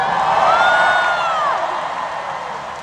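A concert crowd at a show in Genting, Malaysia whoops and cheers loudly as one mass, with yells over a broad roar that slowly fades.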